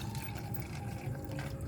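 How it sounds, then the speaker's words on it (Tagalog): Water poured into a bowl for cats to drink gives a steady, close liquid splashing and filling sound, low and continuous throughout without any talk. "Lagyan natin water."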